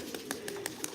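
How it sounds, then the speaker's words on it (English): Pigeons gathered around a home coo softly in a low, steady murmur, broken by a few evenly spaced brief sharp sounds, with no voices. "Lots of pigeons, guys."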